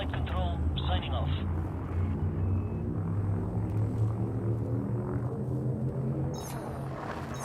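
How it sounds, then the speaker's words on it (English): The frameshift drive of a ship in Elite Dangerous charges with a steady, loud low rumble and droning engine hum that builds throughout, while a voice talks over it. "Frameshift drive charging."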